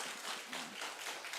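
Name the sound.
church congregation clapping in self-celebration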